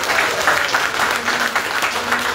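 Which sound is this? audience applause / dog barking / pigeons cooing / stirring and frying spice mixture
audience applause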